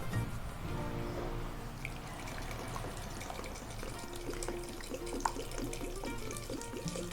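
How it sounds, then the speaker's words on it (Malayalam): Water poured into a pot of horse gram (muthira) with chillies and small onions for curry: a faint, steady stream of gurgling liquid running for several seconds, quiet and continuous with a low hum underneath. "ഇനി നമുക്ക് വെള്ളം ഒഴിക്കാം"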